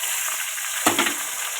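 Chopped tomato drops into a hot pan of fried spices for a pangas fish curry, setting off a sudden burst of sizzling over a steady frying hiss, close and moderately loud.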